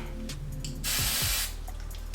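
Hair spray sprayed from a can onto hair, a single close hissing burst lasting about half a second between softer handling noises.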